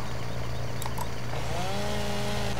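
Loud, steady drone of a chainsaw cutting branches in Farming Simulator 17, running continuously with a slight pitch rise partway through.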